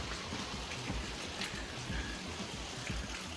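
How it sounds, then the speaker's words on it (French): Steady rain falls outside as an even, dense hiss with faint patters, continuous and alone, with no voices. "Comme on entend bien, ben il pleut, it's raining"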